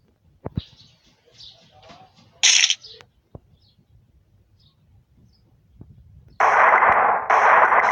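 Shots ring out in an online video game amid an outdoor ambience with chirping birds: a few scattered sharp cracks early, then a loud, close sustained burst of rapid fire near the end.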